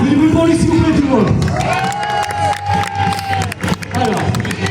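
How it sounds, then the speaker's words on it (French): A crowd at a daytime motorcycle-centre event cheers and applauds, with loud whoops, shouts and scattered clapping rising over a steady roar, a voice booming over the noise throughout. "Allez, on fait du bruit pour lui s'il vous plaît tout le monde."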